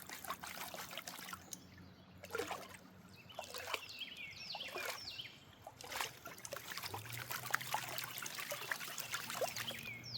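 Water swirling and trickling in a large two-handed gold prospecting pan as material is washed down toward black sand, a continuous close sloshing with small splashes and no talk.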